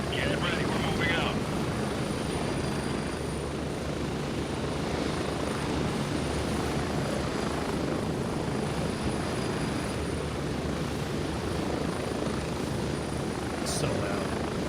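A helicopter in the Gray Zone Warfare game flies close by with a loud, constant rotor and engine roar throughout, and voices are faintly audible beneath it.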